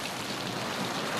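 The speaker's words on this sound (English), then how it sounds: "It's starting to rain." Rain falls steadily outdoors in Australia, a dense, even hiss of drops across the whole clip with no voices.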